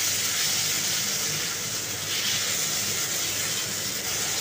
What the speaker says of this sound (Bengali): প্রথমে আমি তেলের মধ্যে আলুটা দিয়ে দিলাম, দিয়ে আলুটাকে আমি কিছুক্ষণ ভেজে নেব।